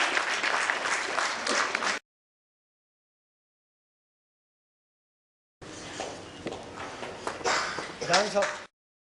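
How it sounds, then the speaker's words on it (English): Two bursts of audience applause separated by a silent gap, with the second stretch mixed with cheering and voices rising toward the end. "Let's not stop the round of applause."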